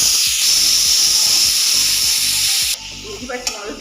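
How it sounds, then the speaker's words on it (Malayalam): Crushed ginger and green chilli with a little salt sauté in a pan for butter chicken, giving a loud, steady sizzling hiss that drops away abruptly near the end, followed by a few faint clinks. "ഇഞ്ചി പച്ചമുളക് ഇട്ടിട്ട് നന്നായിട്ട് വഴറ്റിയിട്ടുണ്ട്."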